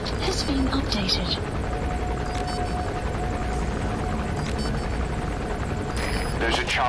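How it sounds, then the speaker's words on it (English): In the video game Metal Gear Solid V: The Phantom Pain, a landing helicopter's steady rotor drone fills the scene, loud and continuous, with scattered bangs and game sound effects layered over it. "There's a chopper landing."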